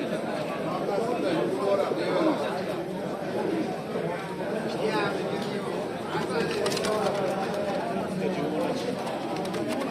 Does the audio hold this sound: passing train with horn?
no